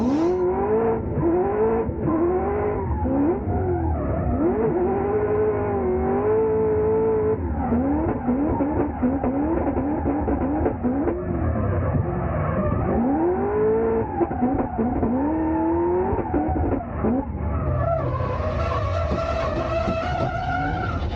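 A drift car, a Nissan Z, laps a dusty track at an Oman drift championship round, its engine wailing and rising in pitch through long continuous runs, with sustained tire squeal and skidding throughout and a brief higher surge near the end.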